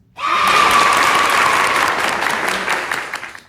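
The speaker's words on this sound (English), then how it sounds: "Let's give a round of applause for all the social workers" A burst of loud crowd applause starts abruptly and carries on steadily before easing slightly toward the end.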